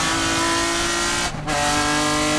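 Touring race cars at the SCCA Runoffs roar past on the racetrack, a loud sustained engine howl with a brief dip as the cars pass, then full-throttle noise again.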